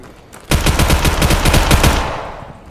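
A burst of rapid automatic gunfire from the VR shooter game Tactical Assault VR, loud and close, lasting about a second and a half before trailing off into echo.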